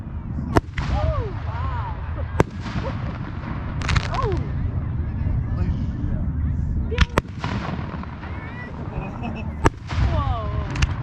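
Fireworks at Pumpkin Ridge Golf Club burst in sharp, spaced booms every couple of seconds, their echoes rolling beneath whistling shells and a crowd murmuring and exclaiming nearby.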